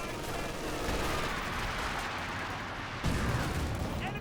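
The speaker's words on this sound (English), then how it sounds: "That was a decoy barrage from the Major." Dense, continuous battlefield gunfire and explosions from a decoy artillery barrage in Company of Heroes 2, a loud wash of rapid shots and blasts with a heavy thump near the end.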